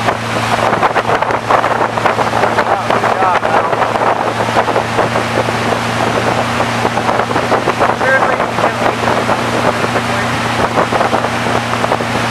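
A motorboat engine drones steadily up close, with a constant low hum mixed with water and wind noise throughout.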